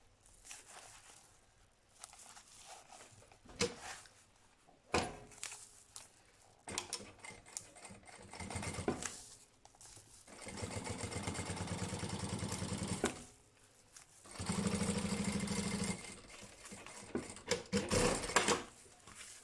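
A sewing machine stitching small fabric squares together for a lunch bag, with two sustained motor runs between scattered handling clicks and rustles, fairly faint and close, no talk.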